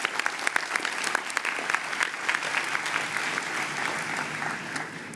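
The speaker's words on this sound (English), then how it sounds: "Please give yourself a round of applause." Steady applause from a sizable crowd at a University of Chicago Harris School of Public Policy convocation, dense clapping that holds at an even level for several seconds with no voices over it.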